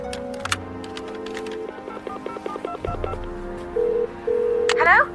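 A telephone is dialed by hand, a run of short touch-tone beeps in a quick irregular rhythm over a low hum, followed by longer steady tones like ringing on the line, close and clear with no talk.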